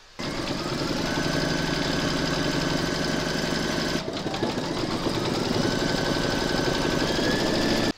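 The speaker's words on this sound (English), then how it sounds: "Pop your hoop into your machine and stitch round number 4 to secure them." An embroidery machine stitching the fourth round of a large haunted-house applique in a hoop, a close, steady mechanical whir with a fast, even needle rhythm, briefly pausing once before running on.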